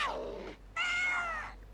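A pair of distorted, cat-like imitation cries from the mimic creatures in the Braid video game, a descending yowl then a longer wavering meow-like call, close and alone without talk.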